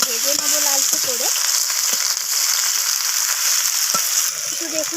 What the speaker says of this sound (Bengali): তো ঢ্যাঁড়সগুলোকে এইভাবে নাড়াচাড়া করে আমি একটু ভেজে নেবো লালচে করে।